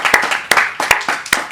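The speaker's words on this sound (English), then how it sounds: "If we'd like to give a round of applause to our wonderful panellists today." An audience gives a round of applause to panellists at an intercultural conversations panel discussion, a handful of sharp, separate claps spaced out in an uneven rhythm, close and sparse rather than a full ovation.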